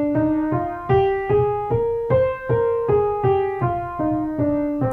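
A sung natural minor scale used as a vocal warm-up, rising then falling in about ten steady sustained notes with a clear tonal voice and no spoken words.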